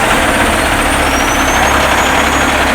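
A transfer truck with a 600 horsepower engine and 18-speed transmission runs close by, a loud steady rumbling drone with no breaks, alone without voices.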